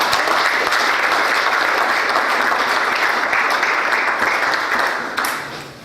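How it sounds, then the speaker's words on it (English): Loud, sustained applause from an audience at a progressive political event with a Green Party presidential candidate in Portland, Connecticut, dense clapping held steady for about five seconds before tapering off at the end. "let's give a round of applause."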